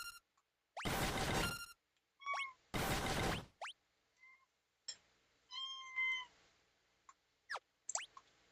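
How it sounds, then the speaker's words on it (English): Cats meowing in the background of a room, with two long loud meows followed by several shorter squeaky calls and chirps scattered over the following seconds, alone without talk. "Cats, why do you always start meowing when I'm doing a video?"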